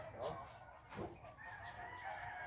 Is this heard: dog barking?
no